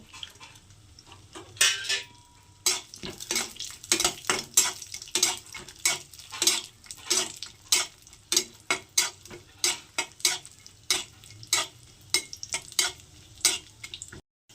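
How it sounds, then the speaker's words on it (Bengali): Rhythmic scraping and clinking of a spoon stirring cashews and raisins frying in ghee in a pan, with a soft sizzle of frying underneath, repeating steadily. "এইগুলোকে আমি এখন এই ঘিয়ের মধ্যে একটু ভেজে নেব"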